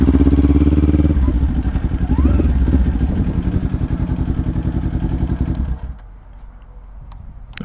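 Kawasaki Ninja 400 motorcycle on a highway, its engine droning loud and steady with a rapid pulsing rhythm up close, dropping to a quieter idle-like hum near the end.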